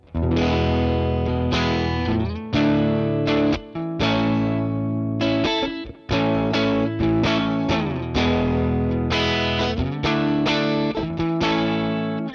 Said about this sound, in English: it's basically just distortion or no distortion